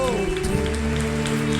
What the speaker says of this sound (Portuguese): Nós aplaudimos o Teu nome, Jesus.